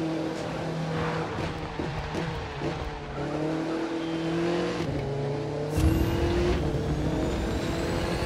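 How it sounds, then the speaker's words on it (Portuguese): An Audi TT RS accelerates hard in the racing game The Crew 2, its engine climbing steadily through the gears with rising pitch and brief drops at each shift, loud and continuous, with occasional tire noise. "agora eu tô acelerando com tudo, sem descanso"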